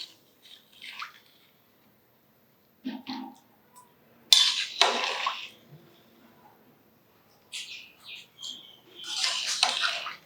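Water poured into a pressure cooker of rice for a chicken biryani comes in several short splashing bursts, with pauses between and a longer pour near the end, close and fairly clear.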